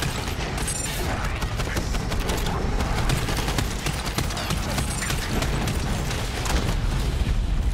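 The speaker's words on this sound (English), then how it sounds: "They're exploding." Dense, continuous explosions and gunfire-like bursts from the Borderlands video game, a loud, busy barrage of booms and crackles with no pause throughout, with some voice mixed in.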